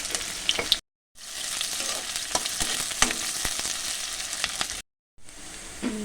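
Cumin, ginger and garlic frying in hot oil, a close, steady sizzle with crackling pops and stirring scrapes, broken by two brief silent gaps.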